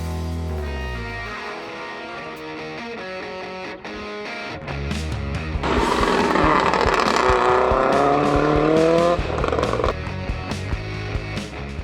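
Cars race up the hillclimb course at the Leadfoot Festival in New Zealand, engines revving and shifting through gears, rising to a loud sustained roar in the middle with tire noise, heard from nearby without talk.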